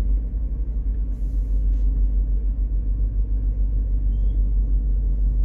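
Congested road traffic at Gadang market in Malang, a steady low rumble of idling and creeping vehicles filling the street, with no voices over it.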